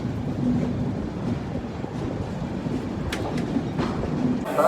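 The 12167 LTT Banaras SF Express rumbles along the rails with a loud continuous roar and rhythmic wheel clatter, heard from on board, with a few sharp metallic clicks near the end.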